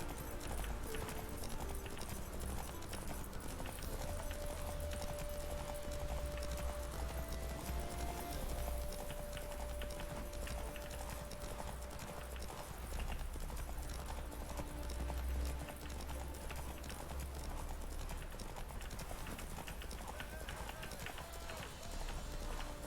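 A horse galloping in The Witcher 3 video game, rapid hoofbeats running continuously beneath game music and ambient sound, with a steady sustained tone partway through.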